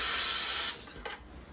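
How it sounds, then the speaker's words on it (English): An air nozzle pushed into a hose blows a strong hiss of compressed air to pressurize a Jeep Cherokee gas tank, cutting off sharply after a moment, then one brief fainter puff. "blow some air, pressurize the tank"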